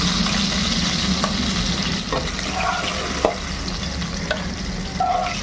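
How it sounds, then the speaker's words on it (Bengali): Boal fish pieces frying crisp in hot oil, a loud continuous close sizzle with occasional clinks and scrapes of a utensil against the pan, no voices. "দেখো এইভাবেই একটু কড়া করে ভাজতে হবে"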